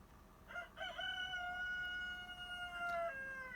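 A rooster crows close by in one long call with a rising start and a held, wavering tail, loud against a quiet background with no talking.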